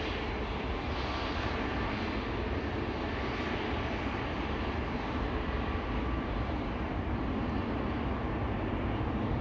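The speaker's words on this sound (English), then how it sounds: "That is KLM flight 743 to Lima in Peru, coming this way." A KLM passenger jet passes at Schiphol Airport, its engine roar a continuous broadband rumble that holds steady and loud across the whole stretch, with no voices over it.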